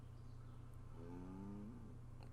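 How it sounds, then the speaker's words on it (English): Cattle moo in the 1700s city-builder game Ostriv, one drawn-out low moo rising slightly in pitch near the end, heard over a steady low background hum with no talking. "Y'all hear the cows?"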